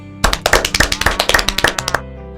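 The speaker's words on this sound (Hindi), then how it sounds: "सभी लोग अपने लिए एक बार जोरदार ताली बजाएं।" A group at a community nutrition-garden meeting claps in unison, about fifteen sharp, rhythmic claps close by, then stopping abruptly.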